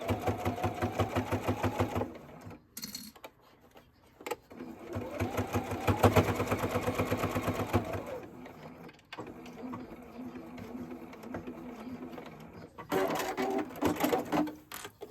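A sewing machine runs in bursts, stitching French seams on a makeup bag, with short pauses between runs of steady mechanical chatter.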